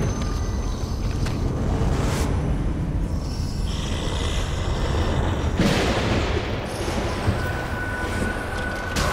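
Gunfire in The Evil Within, a few sharp loud blasts spaced several seconds apart over a rumbling, noisy game background, with no talk.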